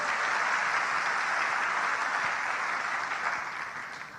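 Congregation applauding in a church service, sustained dense clapping at steady loudness that tapers slightly toward the end, with no talk over it.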